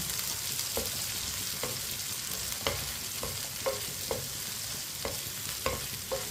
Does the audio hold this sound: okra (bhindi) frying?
yes